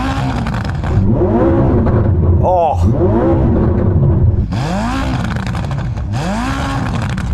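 A Nissan Safari engine with a non-stock exhaust revs hard in repeated rising and falling sweeps, loud and close, with a brief gap before more blips; a short exclamation is heard over it.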